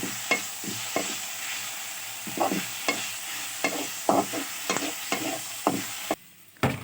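Onion and garlic fry in a pan with a soft sizzle, broken by repeated sharp scraping taps as a spoon stirs them.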